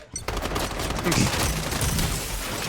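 Rapid gunfire bursts from the online shooter game Strinova rattle almost continuously at a loud, steady level, with a voice talking over part of it.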